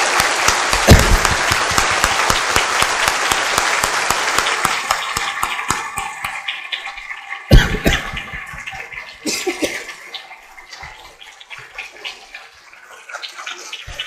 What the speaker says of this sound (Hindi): मैं चाहता हूं 1 मिनट तक तालियां बजे